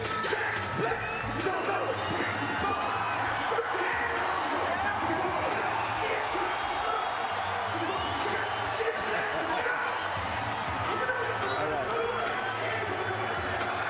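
A boxing arena crowd roars at a steady, continuous level as Roy Jones Jr. reaches ringside for a light heavyweight championship bout, with a commentator talking over the noise throughout.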